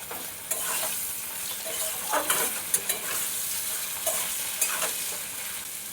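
Mustard paste, cumin and green chillies stirred into kochu loti (taro stolons) frying in a pan, a continuous sizzle with repeated scraping strokes of the spatula at an even pace.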